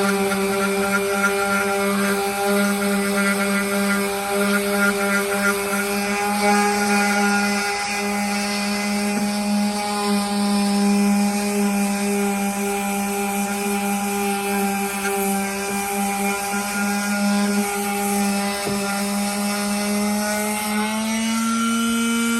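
A power sander grinds away at a boat bottom to remove growth and loose crazed paint, a steady, loud, close motor whine with a constant drone and no breaks.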